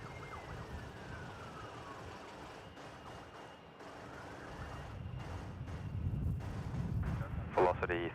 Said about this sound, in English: Fire brigade coming in.